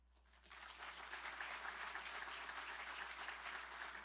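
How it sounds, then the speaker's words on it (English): Sustained crowd applause at a university awards ceremony for excellence, rising after a brief quiet start into steady, dense clapping that fills the hall at an even level throughout. "Let's hear another round of applause."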